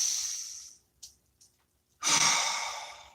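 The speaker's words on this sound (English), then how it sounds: "Please take a nice deep breath." A slow, deep breath drawn in through the nose, a long airy inhale that fades out, a pause with faint small sounds, then a strong breathy exhale, close and intimate with no talking.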